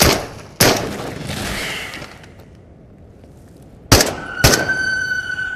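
Guns firing in the VR shooter Into The Radius: sharp loud broadband reports, one near the start and two close together near the end, separated by a quieter stretch of ambient noise.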